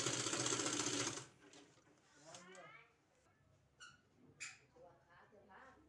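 A sewing machine stitching a baby frock runs loudly for about a second, then stops, followed by quieter handling noises and a few faint squeaky sounds.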